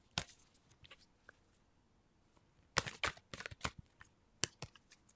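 A deck of playing cards being shuffled, close up, in irregular bursts of riffling and snapping with quiet gaps between them.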